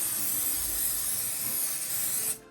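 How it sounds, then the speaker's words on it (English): 505 spray adhesive hisses from an aerosol can in one steady, close burst lasting a couple of seconds before cutting off abruptly, used as a temporary fabric adhesive for 3D embossed embroidery. "that 505 spray adhesive"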